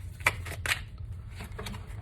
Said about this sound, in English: I'll just continue to shuffle, put them back and continue to shuffle